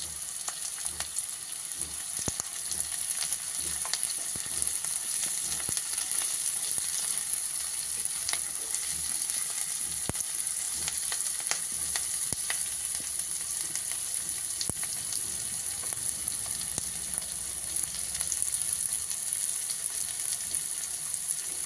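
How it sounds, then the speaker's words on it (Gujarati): Onion and ginger-chili paste fry in hot oil for Manchurian, giving a steady, close, dense sizzle with scattered crackles and a few stirring scrapes, with no talking throughout. "આદુ મરચાંની પેસ્ટ છે એ અંદર આપણે ફ્રાય કરશું."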